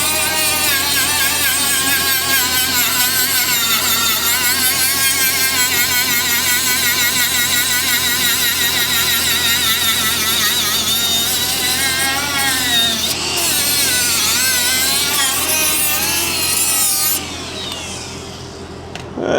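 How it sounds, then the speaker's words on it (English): Steady, loud grinding on steel while upgrading a gooseneck trailer, with a continuous harsh whine whose pitch wavers as the angle grinder works the metal, running nearly twenty seconds before cutting off. "I'm gonna grind the rest of that out"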